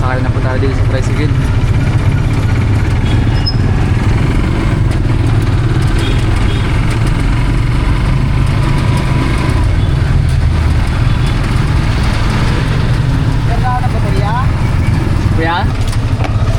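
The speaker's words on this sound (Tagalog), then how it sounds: "Nakasakay na po tayo dito sa tricycle." Motorized tricycle engine droning loudly and steadily throughout a ride, close and continuous with road noise, with voices talking over it.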